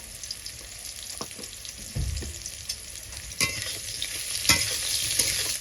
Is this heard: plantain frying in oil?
yes